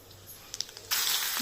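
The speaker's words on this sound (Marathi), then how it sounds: "जिरी मोहरी तडतडली आहे" Cumin and mustard seeds in two spoons of hot oil in a kadai for a besan vadi curry: a few sharp pops, then a sudden loud hissing sizzle.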